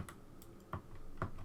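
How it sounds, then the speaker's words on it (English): Hard little plastic keys on an Oric-1 home computer keyboard click sparsely, a few sharp taps spaced apart over a faint, quiet room background. "It's got these little hard tic-tac keys, little plastic keys."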